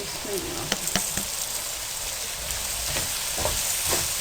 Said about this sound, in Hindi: अब आपने इसमें प्याज डाल देनी है।